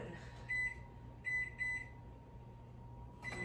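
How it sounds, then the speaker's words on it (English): A microwave oven hums steadily while melting butter, with a few short electronic beeps near the start and a clunk at the end. "melt in the microwave roughly 45 seconds to a minute"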